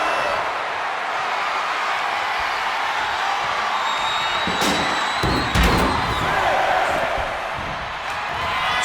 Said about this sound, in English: Thunderous applause for these competitors